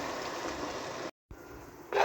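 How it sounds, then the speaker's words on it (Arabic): Blended tomato water pours steadily into a cooking pot, a close continuous liquid rush with a brief cut partway through. "وهنا انا راح اضيف مي الطماطة عند ضاربته بالخلاط"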